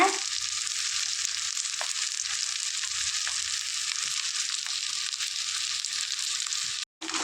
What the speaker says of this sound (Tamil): வெங்காயம் மிளகாயை நல்லா வதக்கிக்கலாங்க